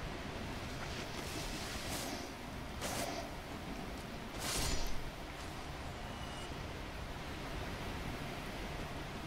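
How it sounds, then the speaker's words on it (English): Steady broadband rush of a waterfall in the video game Dark Souls, a constant roar at even level throughout with brief louder swells, no talk. "Oh, there's the waterfall people were telling me to find."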